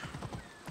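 A horse galloping in Assassin's Creed Odyssey, a quick run of soft hoof clops over a short burst, close and fairly quiet.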